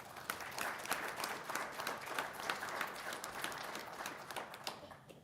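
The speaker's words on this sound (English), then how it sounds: "So let's give them a round of applause." An audience at a Norwood City Schools board of education meeting applauds a basketball scoring leader, with steady, dense clapping from many hands that keeps an even level throughout and no talk over it.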